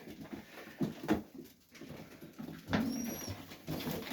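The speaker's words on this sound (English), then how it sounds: "birds are eating" Serbian highflyer tippler pigeons feeding in their loft give soft, low cooing calls. A few wing flaps and light pattering sound close by, and no one talks.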